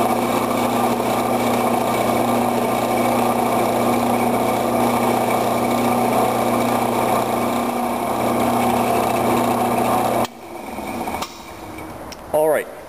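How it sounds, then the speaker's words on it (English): A drill whines steadily at high speed for about ten seconds boring a pilot hole in a steel block, then stops, followed by quieter clatter and handling noises. "re-angle the block and drill the back pilot hole"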